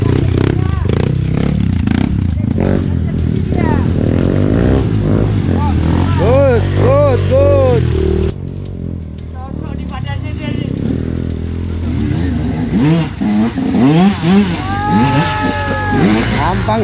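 A new motorbike's engine revs hard and repeatedly, rising and falling in pitch through a ride on a rough track, loud and close, with voices talking over it.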